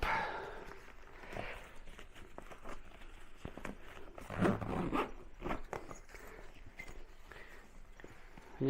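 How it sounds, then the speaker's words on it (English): Backpack being zipped closed by hand, a few quiet scratchy zip pulls and fabric rustles heard up close in a calm room. "Zip it up."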